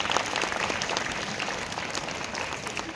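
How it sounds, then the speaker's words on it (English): An audience at an IIT Roorkee science fiesta applauds the chief guest, giving a steady, fairly full round of clapping that eases slightly toward the end. "Please join me once again to give a good applause to our dear chief guest."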